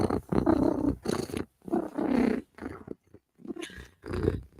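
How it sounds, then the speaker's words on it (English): A cat purrs close by in repeated rumbling bursts separated by short pauses, steady and fairly loud throughout. "If Cat is purring, Cat is a happy girl."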